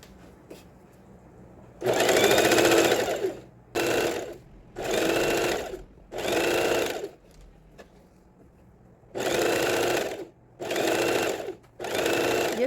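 An overlock sewing machine stitches elastic around the base of a cropped bra in repeated loud bursts of whirring, about six runs of one to two seconds each separated by short pauses, close up with no talk.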